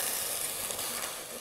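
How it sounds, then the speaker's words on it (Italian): Scorpionfish searing in a hot pot, a steady broadband sizzle that holds fairly constant for about a second and a half, close and moderately loud with no talk. "Rosoliamo lo scorfano per qualche istante nella pentola calda"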